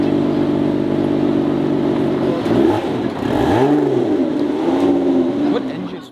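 A supercharged V6 car engine idles with a steady low drone, then revs up and down in a couple of sharp, swooping bursts, loud and close, with people talking alongside.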